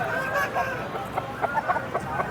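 Rooster at Nallapadu market clucking in short repeated bursts, fairly close, over a low murmur of market background.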